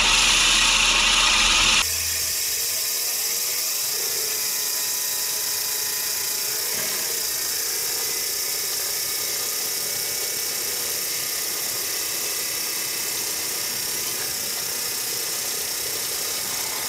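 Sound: Gardena reel mower blades spun in reverse for sharpening

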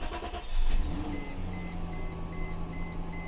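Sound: car engine starting up

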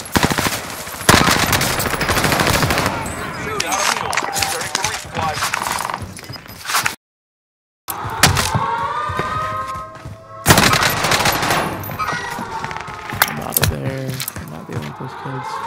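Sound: C58 rifle gunfire in video game Call of Duty Warzone

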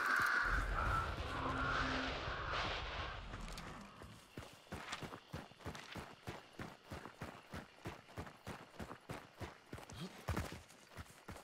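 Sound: crows cawing in video game Hunt: Showdown

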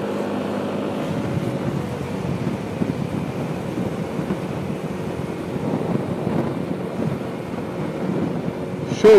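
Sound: wind noise while riding a Yamaha Nmax 155 on the highway

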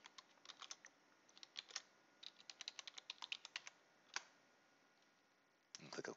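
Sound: typing a password on a computer keyboard

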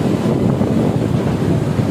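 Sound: wind on motorbike ride

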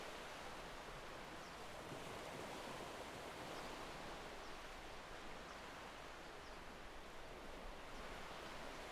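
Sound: ocean waves on the beach

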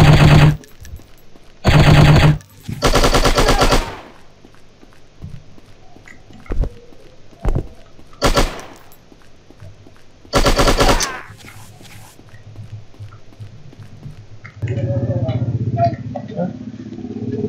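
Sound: gunfire from machine guns in the shooting game Striker

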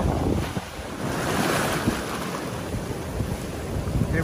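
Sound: rough sea waves and wind

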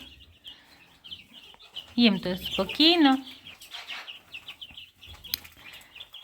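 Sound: chicks clucking in a barn

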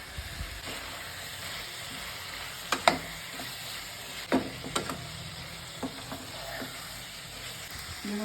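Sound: potatoes frying with spices in a pan

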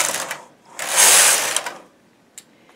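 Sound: knitting machine carriage knitting rows

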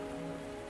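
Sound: rain in the video game Wuthering Waves

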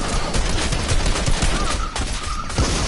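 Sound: gunfire while shooting in a video game

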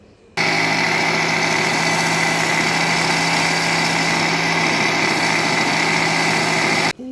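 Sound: grinder blending homemade cold coffee

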